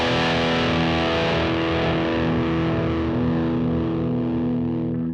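A heavily distorted electric guitar runs through a Quad Cortex modeling a Marshall JCM 900, one thick sustained chord ringing loud and steady for about five seconds before it begins to decay.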